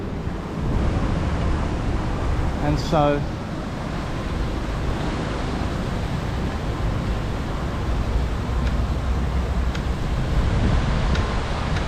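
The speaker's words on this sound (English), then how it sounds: "So when it gets going, they'll switch on the waves here," Artificial waves surging in a resort wave pool produce a steady, loud wash of rushing water and wind, with a brief whine partway through and a few words spoken over it.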